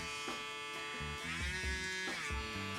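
A hair clipper motor runs with a steady close buzz whose pitch dips and recovers as the blade is held back and meets resistance, then rises again.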